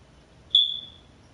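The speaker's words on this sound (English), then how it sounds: "I gotta stop that smoke detector from beeping." A smoke detector gives one single high, piercing electronic beep that rings briefly and fades in an otherwise quiet room.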